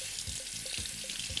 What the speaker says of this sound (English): So I'm washing and then twisting the water out